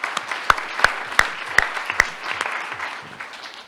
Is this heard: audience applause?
yes